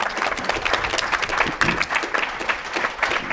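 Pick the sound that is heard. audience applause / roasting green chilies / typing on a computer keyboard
audience applause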